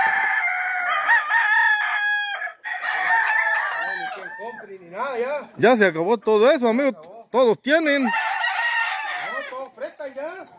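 Fighting roosters crow on a ranch, their drawn-out calls rising and falling under close, steady talk between men.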